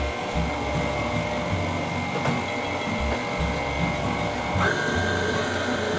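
Stand mixer running steadily on low speed while kneading pretzel dough, a continuous motor whir with a rhythmic low churning thump throughout, fairly close and loud, with no talking.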